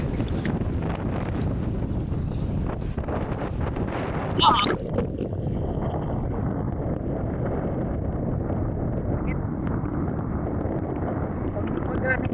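Strong sea waves at a beach in Dingalan, Aurora: a continuous roaring surf with heavy wind buffeting, loud and close, with a brief excited exclamation from a person partway through.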